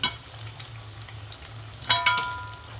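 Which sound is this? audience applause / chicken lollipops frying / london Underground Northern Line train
chicken lollipops frying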